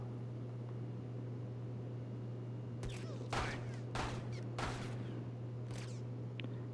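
Several sharp gunshots from a video game ring out in a scattered burst partway through, set against a steady low hum and background noise.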